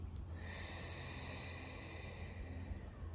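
A slow exhaled breath during a guided meditation, a steady soft airy rush with a faint snort-like onset, close and alone.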